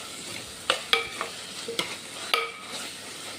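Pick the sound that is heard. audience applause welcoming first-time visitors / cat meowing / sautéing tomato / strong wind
sautéing tomato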